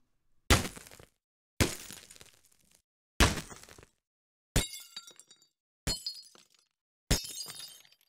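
Bullet impact surface sounds from an Unreal Engine and Wwise game demo: six separate sharp impacts at regular intervals, the first three thuddy and crunchy, the last three brighter with glassy, shattering and clinking tails.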